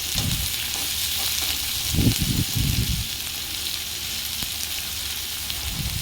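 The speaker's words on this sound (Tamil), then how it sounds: "மீடியம் ஃப்ளேமில் வச்சுட்டு ஒரு 10 மினிட்ஸ் நல்லா வெங்காயத்தை வதக்கிக்கலாம்" Chopped onions sauté in a pan over a medium flame with a steady, even sizzle. A few louder stirring scrapes stand out near the middle, and no one speaks.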